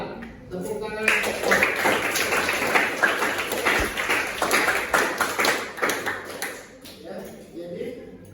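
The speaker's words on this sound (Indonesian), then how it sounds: "Tepuk tangan." A group claps hands together in a classroom-style setting, making a dense, steady patter of many overlapping claps at close range. The sound runs for several seconds and then fades out.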